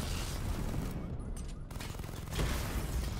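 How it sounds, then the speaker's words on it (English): Missile barrage fire in Batman: Arkham Knight, a dense roaring wash of launches and explosions that dips briefly midway and then surges back loud. "Charge the missile barrage to level 2 to destroy up to 4 targets at once"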